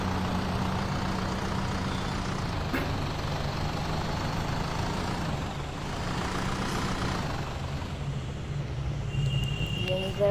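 A bus drives in a video game with moon gravity switched on, climbing a mega ramp. Its engine drones steadily at a constant, moderately loud level for the whole stretch, with brief higher whines near the end.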